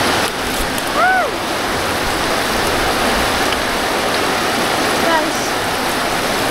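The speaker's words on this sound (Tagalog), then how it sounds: "So much raining." Heavy rain pours down in a dense, steady roar of broadband hiss that fills the whole stretch without letup, with a brief voice exclamation near the start and another faint one later.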